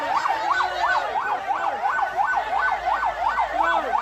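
Fire engine siren wailing at a house fire in Cakung, East Jakarta, a steady rising-and-falling electronic yelp cycling about twice a second, loud and close, with faint road traffic underneath.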